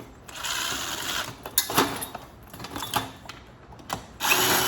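Power drill with a Phillips bit whirring in repeated bursts while removing screws from a ceiling fan motor, revving up and down with short pauses between, close and fairly loud, with no talking.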